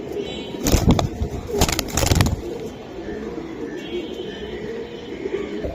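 Silver Giribaz pigeons, two females, cooing softly at close range, with a few sharp rustling bursts early on and a voice talking over them.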